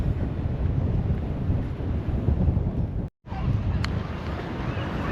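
Strong wind on an ocean beach near Haystack Rock buffets the microphone with a loud, rumbling roar that cuts out for a split second and then returns.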